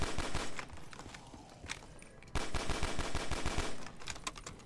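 A pistol fires in rapid taps in Call of Duty Black Ops 3 custom zombies on a Mars map, a quick burst of sharp shots, a pause, then another fast volley, loud and close with no talk.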